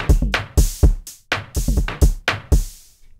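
A dry drum kit from the Stim Pack expansion for Maschine plays a punchy, unprocessed beat, with tight kicks and snappy snare and hat hits in a quick, steady groove heard alone.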